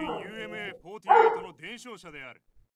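A pet dog barks in a short series of sharp, harmonic barks at night, fairly close and moderately loud, the yaps coming in quick bursts with brief gaps between them.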